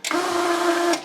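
An Uninet DTF1000 DTF printer feeds printed film down after printing, giving a steady mechanical hum with a clear tonal drone, starting and stopping abruptly over about a second, close and fairly loud.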